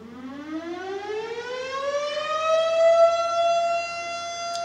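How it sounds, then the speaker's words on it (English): A loud fire station alarm siren winds up slowly, its wailing tone climbing steadily in pitch and holding high. It sounds alone, without any voices. "Fire station alarm."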